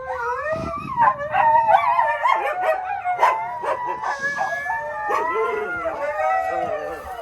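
Several dogs howl together in a drawn-out, overlapping chorus of wavering tones at close range, a wolf-like breed whose exact type is not given, with a few yips and barks mixed in.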